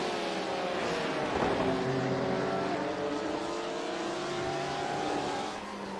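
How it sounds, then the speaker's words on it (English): Porsche RSR race car in a Barcelona sim racing round, engine howling steadily at high revs with rising and falling harmonics, loud and close, alone without talk. "The glorious sound of the RSR."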